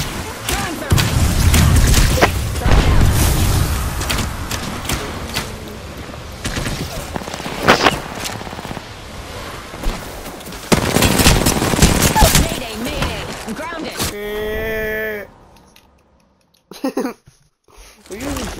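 Rapid bursts of video game gunfire hit the player under fire, loud and dense for the first half, with chatty gamer voices between volleys and a brief electronic beeping pattern near the end.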